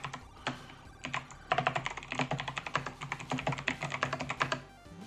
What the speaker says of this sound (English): So now if I just type Bob, I can log in